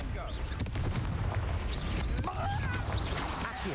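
A Confringo blasting spell explodes in Hogwarts Legacy amid busy combat, a dense rumbling burst with crackling impacts over continuous loud battle noise.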